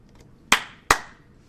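Two sharp, close hand claps about half a second apart ring out in a quiet lecture room, each with a short trailing echo.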